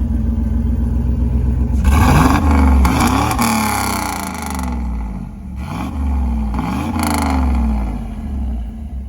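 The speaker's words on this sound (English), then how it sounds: "That's the LS power, baby." An LS V8 swapped into a Chevrolet El Camino runs loud and close, a deep steady idle rumble broken by several throttle blips that rise into roaring revs and settle back, with no talk over it.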